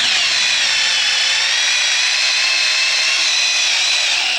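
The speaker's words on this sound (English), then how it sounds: "I know you guys love that up-close drilling action." A power drill whines continuously at close range, a steady high-pitched motor sound with no talking.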